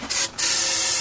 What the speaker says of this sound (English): Spray it in the breather.